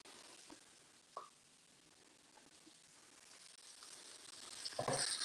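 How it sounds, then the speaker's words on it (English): Onions with red, orange and yellow bell peppers sautéing in a pan, a soft, steady sizzle with a few faint utensil taps that builds louder toward the end. "Saute the onions, the red peppers, orange peppers,"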